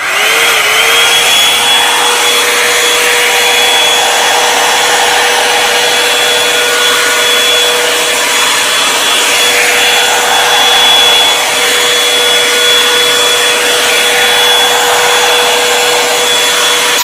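A Revlon Salon One-Step hair dryer brush blows continuously at close range, a loud, steady whooshing drone with a thin whine that never changes for the full duration.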